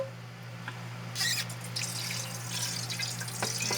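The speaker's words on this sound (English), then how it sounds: "just gonna run a bit of water here because I'm gonna be using the pan for it" Water runs steadily from a tap, splashing and spattering into a metal pan over a low background hum.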